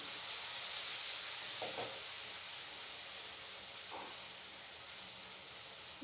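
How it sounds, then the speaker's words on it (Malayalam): Dough balls for munthiri kothu sizzle in hot oil, a steady faint hiss of frying throughout with a couple of brief soft bubbling bursts, no talking. "എണ്ണയിൽ മുങ്ങി നിൽക്കുന്ന രീതിയിൽ"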